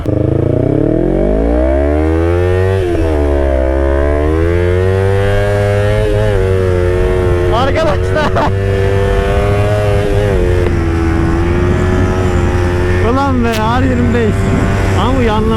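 A Yamaha R6 motorcycle engine revs up loudly and settles into a steady high-pitched drone, with further throttle blips and rising whines later, close and continuous throughout.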